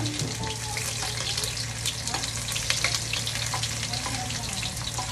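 Garlic, onion and ginger frying in hot oil for sweet and sour tilapia, a dense, steady sizzle close up with bright crackles and a low hum under it.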